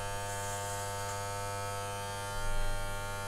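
Electric hair clippers buzz steadily during a home haircut, a close, continuous motor hum that swells briefly as the blades bite into hair.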